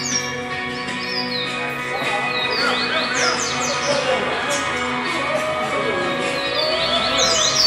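A songbird sings at a bird singing contest training tournament in Recife, steady bright chirps and descending whistled phrases repeating throughout, over a continuous background of crowd murmur and other birds.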